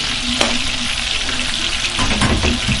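Jollof rice sauce sizzles and bubbles steadily in a pot, a close, constant frying hiss with occasional scraping from stirring.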